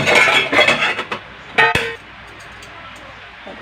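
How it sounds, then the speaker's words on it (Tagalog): Dishes, pots and cutlery clatter from a heap of dirty dishes, several loud knocks and clinks in the first two seconds, then only a quiet background. "ayan, tambak ang mga hugasin"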